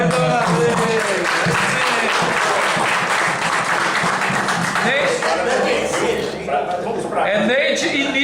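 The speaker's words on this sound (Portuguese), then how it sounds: "nós precisamos de palmas para ela" A live audience at a poetry workshop breaks into sustained applause, loud and dense, with talk and a little laughter mixed in as the clapping continues.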